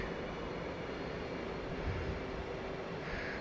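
Jet engine noise from a fighter in the DCS flight simulator, an F/A-18C or F-16, with the throttle pulled back for landing; a steady, dense broadband roar and whine fills the clip at a constant level, with no voices.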